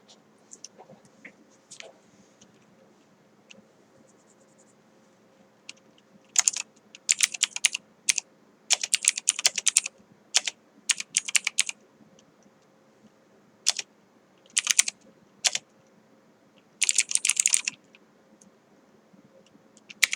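Keys on a computer keyboard clatter in scattered bursts of quick taps with pauses between, close and crisp over a faint steady hum.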